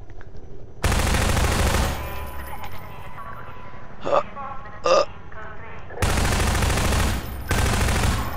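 Gunfire bursts from Half-Life 2 VR, loud bursts at the start and end with two sharp single shots between, while a player talks over the quieter stretches.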